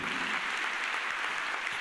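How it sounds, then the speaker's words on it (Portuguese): Steady applause from a church congregation during a homily, a dense even clatter of many hands clapping throughout with no voices on top. "Aplauda isso."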